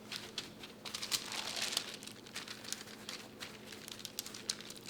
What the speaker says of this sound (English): go ahead and pat it dry with a paper towel